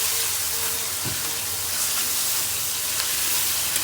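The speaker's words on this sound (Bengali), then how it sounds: "চিংড়ি মাছটাকে হালকা ব্রাউন করে নিতে হবে।" Shrimp frying in a pan with ginger-garlic paste give off a steady, close, even sizzle that hisses on without a break, with a faint clink near the start.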